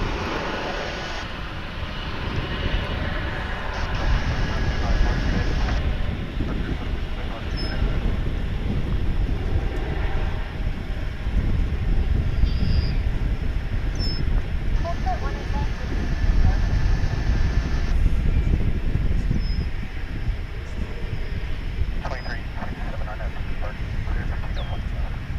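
An American Airlines jet takes off from runway 18 Left at Dallas/Fort Worth International Airport. A loud, sustained engine roar rumbles steadily for about twenty-five seconds and stays close throughout.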